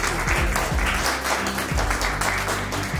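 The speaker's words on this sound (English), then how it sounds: "please give it a round of applause for the team" Audience at a trailer launch party for an Afghan film applauds the team, a steady wash of clapping throughout, with some low rumbling and muffled voices beneath.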